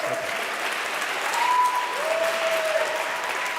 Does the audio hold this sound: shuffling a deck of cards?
no